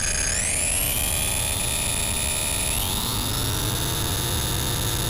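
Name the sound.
vintage synthesizer note gliding between notes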